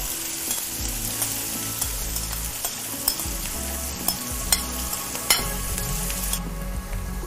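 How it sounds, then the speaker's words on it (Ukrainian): Chopped onions sizzle in the same sunflower oil just used for frying buckwheat fritters. A steady frying hiss carries a few sharper pops and stirring clinks, close and with no speech. "Наші гречаники вже посмажилися, і в ту саму олійку ми висипаємо цибульку"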